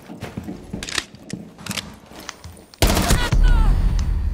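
Rapid gunfire in a shooter video game, with scattered shots early on and then a loud, dense burst of shooting near the end, as a player's voice talks in between.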